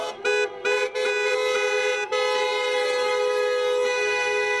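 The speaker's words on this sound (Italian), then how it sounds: "sventolano le bandiere e suonano i clacson per le strade" Car horns blare loudly and almost continuously in a Treviso street celebration of a basketball promotion, overlapping toots with a few brief gaps early on, close by and sustained.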